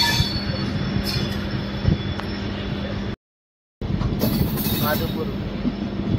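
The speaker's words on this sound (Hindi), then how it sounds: "माधोपुर प्लेटफॉर्म चेक पे ट्रेन रुकने वाली है गाइस।" A passenger train slows on its approach to Sawai Madhopur station in India, steady rolling rumble and rail noise with a faint squeal, broken by a brief dropout before the clatter resumes.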